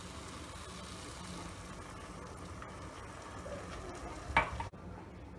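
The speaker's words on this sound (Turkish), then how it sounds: "Şöyle bir karıştıralım." A spinach and carrot dish with rice and bone broth is stirred in a pot, producing a low, soft simmering bubble and quiet spoon movement, ending with a brief louder scrape or clink before dropping away.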